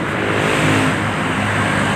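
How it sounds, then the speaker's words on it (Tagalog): Highway traffic heard from the roadside, a loud continuous roar of engines and tyres as vehicles pass close by, without pause. "dito lang ako sa gilid ko ng highway"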